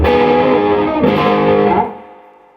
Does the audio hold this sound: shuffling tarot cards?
no